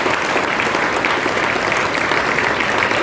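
Dense, steady applause from an audience at a mimicry performance held at a temple in Goa, loud and continuous throughout with no talking over it.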